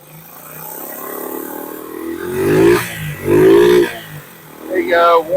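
Small engine of a Honda SL70 motorcycle sputtering to life and running, revving unevenly in a few loud bursts that rise and fall with the throttle, with some talking over it.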